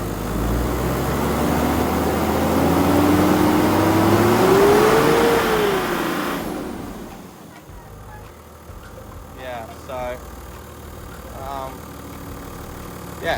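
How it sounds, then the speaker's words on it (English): A Toyota Land Cruiser 80 series engine idles, then is revved once, rising and falling over a few seconds before settling back down; people talk afterward. "And then give it a little bit of rev."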